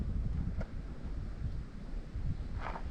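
Steady outdoor wind rumbles and buffets a microphone throughout, a continuous low roar with gusty swells and no talking, on a breezy day at an outdoor model plane flying session.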